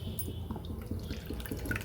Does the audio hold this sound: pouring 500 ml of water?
yes